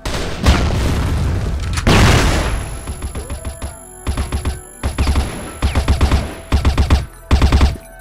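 Video game combat: a heavy grenade boom is followed by bursts of automatic gunfire and scattered shots, loud and close, with electronic game tones in between.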